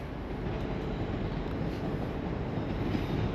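A train rolls past at a railway station near the National Railway Museum in York, heading toward Scarborough, with a loud, steady rumble sustained for the whole stretch.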